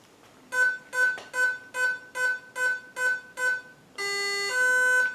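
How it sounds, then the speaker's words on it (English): Startup tones from a KDE Direct XF UAS electronic speed controller: eight short, evenly spaced electronic beeps, then a longer, louder two-part arming tone. The sound is close and clear with no talking. "what you heard there was 8 beeps"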